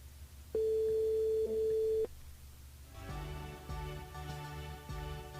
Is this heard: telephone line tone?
yes